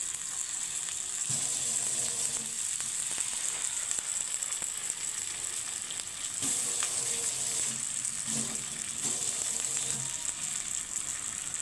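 Spice masala frying in hot oil with cauliflower for an egg curry, a steady close sizzle with occasional stirring scrapes, no talk.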